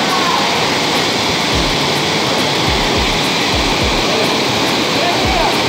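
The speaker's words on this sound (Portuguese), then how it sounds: "aqui é a cachoeira da caverna. Aqui dentro." Powerful waterfall roaring inside a cave at Complexo da Pedra Caída in Chapada das Mesas, Maranhão, a loud, dense, continuous rush of water filling the space, with no break or voice heard over it.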